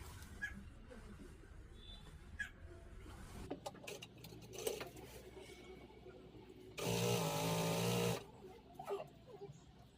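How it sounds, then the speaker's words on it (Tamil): Sewing machine stitching the lining of a party frock: a short, loud burst of continuous motor whirring and needle chatter lasting about a second, amid quiet room noise and small handling sounds. "லைனிங் தைப்போம்."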